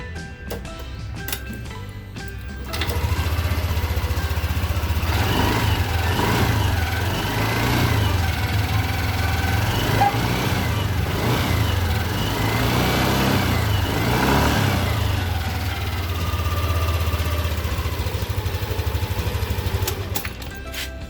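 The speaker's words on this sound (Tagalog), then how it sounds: "subukan na muna natin paandarin yung makina para sigurado tayo na walang problema yung pagkabit natin ng spark plug" A Yamaha Aerox V2 scooter engine starts after a spark plug change, then runs steadily for about seventeen seconds, holding an even, close idle hum with slight rises before shutting off near the end.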